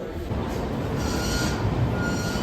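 The Mithila Express at a busy railway station, a loud steady rumble of rolling coaches with a faint high wheel squeal running throughout, close by.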